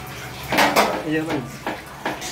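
Pots and dishes clatter and scrape as they are washed during cooking of khichuri, with irregular metallic knocks and cutlery clinks close by, under a murmur of background activity.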